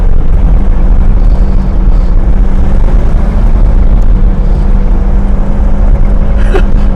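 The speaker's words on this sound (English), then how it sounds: "You gotta drive it in first gear to keep them RPMs up." An old car engine revving hard in first gear to hold high RPMs on its first drive in over twenty years, a loud, steady, close rumbling roar that continues without a break.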